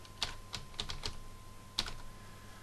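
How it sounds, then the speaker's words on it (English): A computer keyboard is typed on in a short burst of about six quiet, clicking keystrokes with uneven gaps, close by and with no talking. "so we'll just type that."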